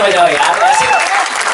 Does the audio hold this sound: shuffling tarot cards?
no